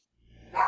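A pet dog gives one short bark indoors, rising quickly from a faint lead-in to a sharp, fairly close yelp at the very end.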